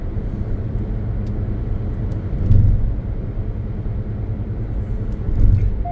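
Car cruising at 80 km/h on the Atal Setu sea bridge highway, a steady low road rumble and tyre roar with two brief swells of louder passing noise, no talking.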